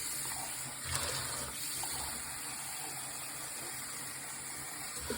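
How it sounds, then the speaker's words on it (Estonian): A small pump fitted to a blocked kitchen sink runs with a steady gushing, watery hum, continuous and fairly close, with a brief splashy surge near the start. "Ja see pump on siin sellepärast"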